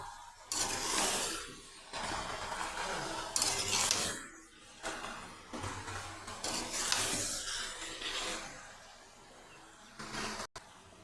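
Raw cut potatoes stirred and scraped around a cooking pan for a chicken curry, giving repeated bursts of metallic scraping and sizzle in uneven waves, close and fairly quiet, with no talking.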